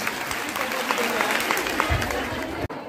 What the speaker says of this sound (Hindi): जोरदार तालियां पापा की परियों के लिए।